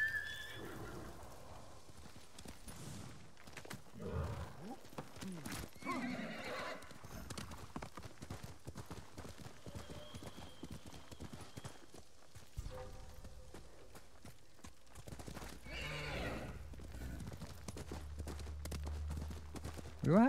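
A horse neighs and hooves clip-clop rhythmically in Ghost of Tsushima, mixed with game ambience and occasional effects, steady at moderate volume.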